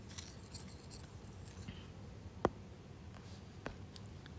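Rubbing and light tapping at a classroom board as writing is erased and redone during a lecture, soft and close, with one sharp click partway through and another fainter one later.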